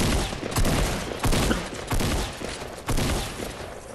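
Gunfire in a shooter video game, with a steady run of loud rapid bursts pulsing at roughly half-second intervals across the whole span.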